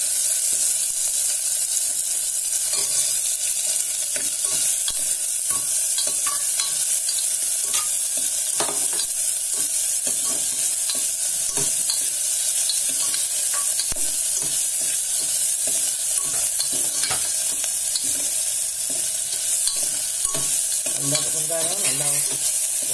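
Onions with ginger-garlic paste and salt sauté in a pan for a chow chow gravy, giving a loud, constant hissing sizzle with frequent scraping stirs, close up and without speech.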